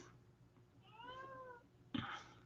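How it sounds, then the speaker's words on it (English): Cats crying from behind a closed door give one drawn-out, faint meow, followed by a soft bump. "I don't know if you can hear my cats outside the door crying."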